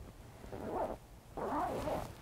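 A zipper on a camouflage hunting suit is worked in two faint, rasping pulls separated by a short pause, with no one speaking.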